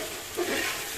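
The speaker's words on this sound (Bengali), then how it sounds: "পেঁয়াজ, এই আদা, কাঁচা লঙ্কা, রসুন আর টমেটো পেস্ট দিয়ে দিলাম।" Onion, ginger, green chili, garlic and tomato paste frying in a pan for a mutton curry, a steady broad sizzle with a brief stir midway, no voices.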